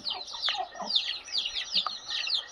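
Free-range desi Aseel chickens clucking close by in a steady stream of short, repeated calls with no talk over them.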